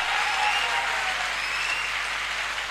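Loud, sustained applause from a seminar audience, a dense steady wash of clapping that holds evenly throughout without any voices over it.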